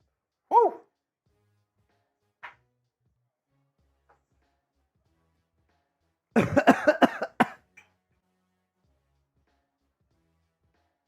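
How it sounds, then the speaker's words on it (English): A short cough near the start, a single faint burst a couple of seconds later, then a loud rapid cluster of several harsh coughs in a row, all close by with silence between. "it's bad when it makes you cough"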